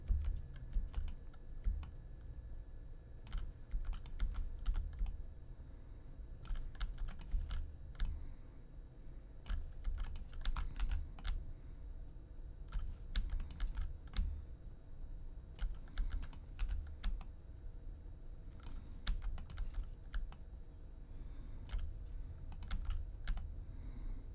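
Computer keyboard typing during a Minecraft session, a steady close stream of quick clicking keystrokes in irregular bursts, with mouse and keys handled continuously and no talking.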